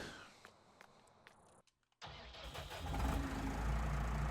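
A tractor engine in Farming Simulator 19 cuts out briefly, then starts up and settles into a steady, loud idle rumble after some faint clicks and movement noises.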